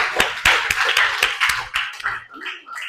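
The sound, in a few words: class clapping after a group presentation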